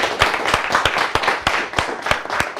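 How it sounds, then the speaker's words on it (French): A television studio audience claps on a live afternoon show, loud, fairly rhythmic bursts of clapping repeating about three times a second, close and continuous throughout. "On l'applaudit."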